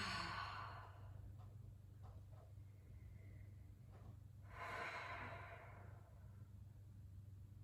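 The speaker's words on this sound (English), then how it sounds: "Take a deep breath." A deep, audible exhale during a yoga session, a soft breathy sigh at the start and another fuller breath midway over a low steady room hum.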